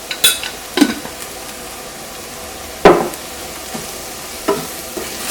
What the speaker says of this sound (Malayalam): ഇതേപോലെ ഇങ്ങനെ നന്നായിട്ട് മൊരിഞ്ഞ് വരണം. ഇതിലേക്ക് നമുക്ക് മസാലപ്പൊടികൾ ചേർക്കാം. ഫസ്റ്റ് മഞ്ഞൾപ്പൊടി ചേർക്കാം.